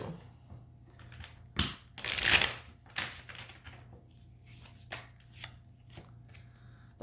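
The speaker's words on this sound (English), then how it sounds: "I'm going to give this a little shuffle and we'll see what animal spirit wants to come through" Deck of oracle cards being shuffled by hand: a series of quick papery riffles and slaps, one longer burst of rapid flutter, then softer intermittent card sounds, close and quiet.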